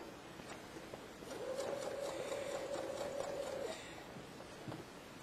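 A home sewing machine stitches a 5/8 inch seam in one steady, quiet run of motor whir lasting a couple of seconds, then stops, with faint handling noises around it.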